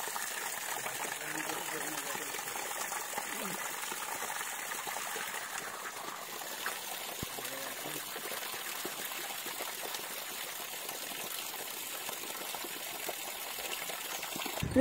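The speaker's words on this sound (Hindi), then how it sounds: "फाइनली दोस्तों एक वाटरफॉल मिला भाई बहुत दिनों के बाद" A waterfall reached by bicycle, giving a steady broadband rush of falling water that stays constant and fairly close throughout, with no breaks.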